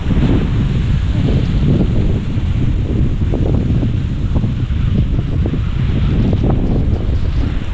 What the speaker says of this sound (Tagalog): lakas ng hangin ha amihan pa ba to